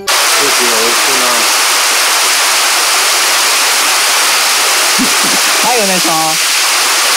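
Steady loud roar of a waterfall in a forest setting, a constant dense rush of falling water, with people talking briefly over it.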